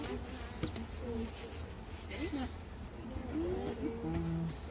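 Honeybees buzzing in a dense swarm around stacked hive boxes, a steady close hum with individual bees droning past, while people talk quietly underneath.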